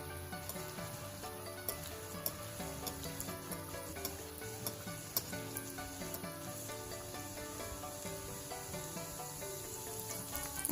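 Pua pitha, sweet Bengali pancakes, frying in oil over a low to medium flame, giving a steady dense sizzle that runs continuously with small crackles, close and moderately loud, no talking.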